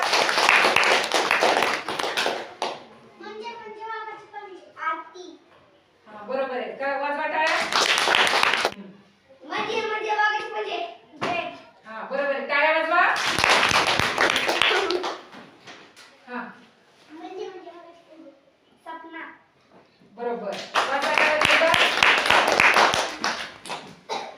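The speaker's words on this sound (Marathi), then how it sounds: "बरोबर टाळ्या वाजवत होता" In a classroom game, children clap with both hands in several loud bursts of quick claps, separated by stretches of chattering children's and adult voices.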